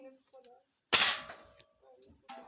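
A single sharp air rifle shot cracks out, followed by a brief ring, with quiet speech before and after.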